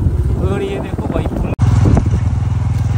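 A motorcycle engine arriving, a loud, close, throbbing putter with a steady pulsing rhythm, rough with wind buffeting the microphone, broken by a brief dropout midway.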